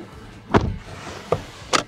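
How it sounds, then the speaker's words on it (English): Door of a 2023 Suzuki Ertiga Hybrid MPV being shut, heard as three close thuds and clunks, with the loudest coming first and a sharp latch click at the end. "Let's shut this door down."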